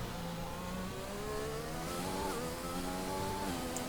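A Formula 1 car in the F1 2021 racing game at Bahrain, its engine holding a steady, loud high-pitched whine at full throttle, with rising harmonics as it pulls down the straight, continuous and close throughout.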